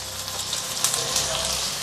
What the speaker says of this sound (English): we want to actually sear the beef itself.